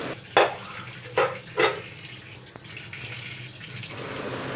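Boiled noodles for street-style chicken Hakka noodles are strained and cold water is poured over them: three sharp splashing gushes early on, then a steady, softer trickle of running water nearby.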